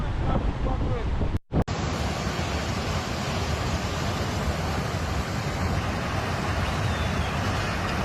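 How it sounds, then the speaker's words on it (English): Loud roaring surf and wind during Category 5 Hurricane Melissa in Jamaica, a dense continuous wash of crashing waves close by, briefly cut out once near the beginning. "Look at those waves."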